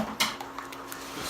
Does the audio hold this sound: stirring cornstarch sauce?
yes